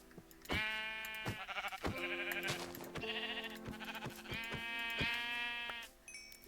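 Sheep in a video game bleat over and over, loud, clear wavering calls in quick overlapping bursts with short gaps between them, heard alone.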